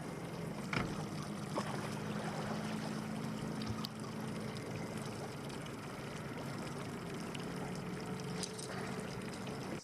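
A fishing boat motor trolls in gear on a pike lake, giving a faint, steady low drone with water lapping and a few small knocks throughout, no talk.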